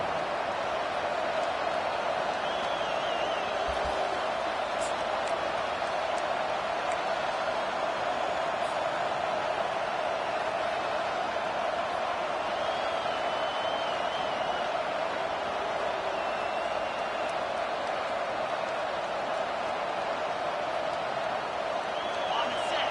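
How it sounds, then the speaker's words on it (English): A stadium crowd at a Michigan versus South Carolina football game roars as one continuous, dense wash of noise. It stays steady and unbroken from start to finish, with no single voice standing out. "listen to the roar of this crowd"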